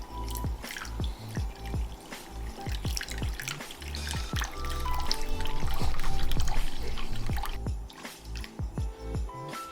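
Warm water poured into a mixing bowl set on a kitchen scale while making homemade pizza dough, a close, continuous splashing trickle with droplet patter throughout.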